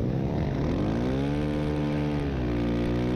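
An indoor outlaw race kart engine running off gear and pinging with little power, a loud, steady close-up drone whose pitch wavers and sags slightly, with no voices over it.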